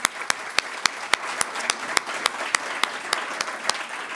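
Audience applause at a conference panel on water and climate financing: sparse, individual claps ring out at a steady rhythm over a soft bed of crowd clapping, moderately close.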